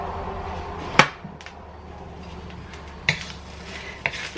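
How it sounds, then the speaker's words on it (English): An egg is dropped into a pan of fried rice and stirred in, heard as three sharp utensil clacks against the pan over a low background hum, with no talking. "We're just gonna drop that egg in there."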